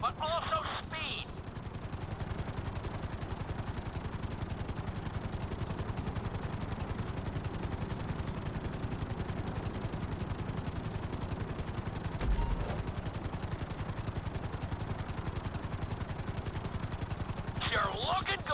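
A helicopter in the video game GTA 5 drones steadily with a dense rotor chop for the whole stretch, with brief bursts of higher game effects near the start and end and a short thump midway.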